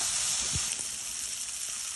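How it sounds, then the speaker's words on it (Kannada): Paneer frying in ghee, heard as a loud, steady bright sizzle with a couple of soft stirring knocks and no talking. "ಇವಾಗ ಪನ್ನೀರ್ ಹಾಕಿ ಫ್ರೈ ಮಾಡೋಣ."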